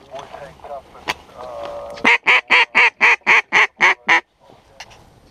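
A duck gives a loud run of about eight evenly spaced quacks close by during a waterfowl hunt at Eagle Lakes, Washington, preceded by softer calls and brief voices in the background.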